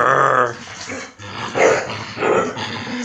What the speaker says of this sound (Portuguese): Não pode brincar com o cachorro.